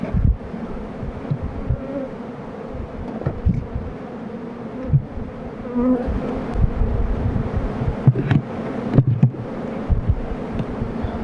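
Honey bees buzz steadily around a hive as honey supers are added, a low humming drone close to the microphone with occasional gusts and handling knocks.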